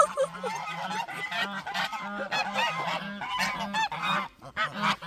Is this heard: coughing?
no